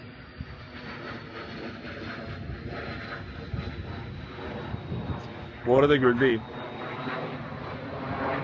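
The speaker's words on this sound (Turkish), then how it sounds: "Neyse uçak geçti." An airplane passes over a lake, producing a steady, broad engine roar that fills the scene while someone talks over it.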